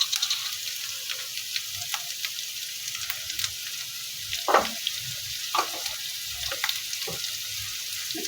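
Fish sautéing in hot oil with garlic, cumin, turmeric and salt, giving a steady close sizzle with occasional stirring scrapes and spatters, alone without talk.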